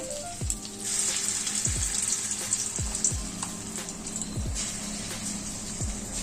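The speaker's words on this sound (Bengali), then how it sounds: "এই দিয়ে দিলাম আমি পেস্টটা ভাজতে" Spice paste frying in a pan for a Bengali calabash and dried lentil dumpling curry, with a steady low sizzle and a few soft utensil knocks and clinks, close and fairly quiet.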